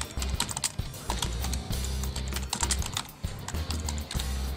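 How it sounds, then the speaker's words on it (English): A full-size wireless keyboard paired with a Lenovo P780 phone clicks in dense, steady keystrokes, close up, over a low hum in the room. "And I can do typing using a standard size keyboard."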